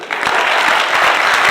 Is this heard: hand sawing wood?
no